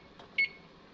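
Kitchen timer being switched off while pasta cooks, one short electronic beep preceded by a faint click, close and clear in a quiet kitchen.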